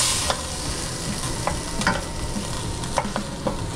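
A pan sauce with alcohol cooking off sizzles steadily at medium heat, a dense continuous hiss with faint scattered pops and light ticks from the pan, close and fairly loud with no talking.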